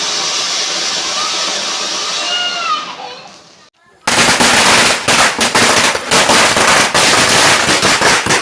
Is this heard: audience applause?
no